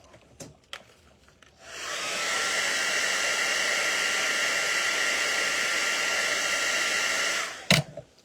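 A hair dryer blasts steadily for about six seconds, drying wet watercolor paint on a stencil, with faint handling sounds before it switches on and a brief clatter after it stops.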